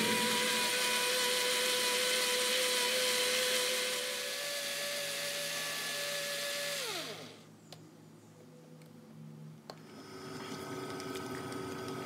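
A blender whirs at high speed through tomatoes, garlic and carrot for tomato sauce, a steady loud motor drone that winds down and stops partway, followed by quieter clinks and handling noises.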